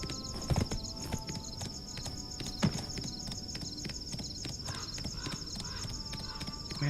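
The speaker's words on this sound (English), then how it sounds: "my horse can get through this stuff better than it can go down a normal town" Hooves of a horse in the video game Black Desert clop in a quick, steady galloping rhythm, faint under a constant high electronic tone and game ambience.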